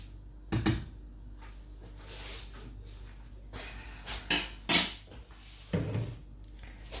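A few scattered clatters and knocks of dishes and utensils being handled, with quiet pauses between, close by and without talk.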